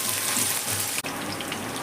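Sliced onion added to ginger and garlic already frying in hot oil for egg chowmein, giving a loud, close, continuous sizzle that dips for a moment and then carries on.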